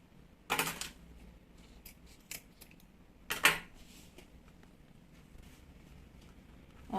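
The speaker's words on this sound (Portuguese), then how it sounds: "Vai cortar 2 pedaços, ó." Scissors cut two pieces of zipper in two crisp snips spaced a few seconds apart, with a few faint clicks and rustles in between. No one speaks.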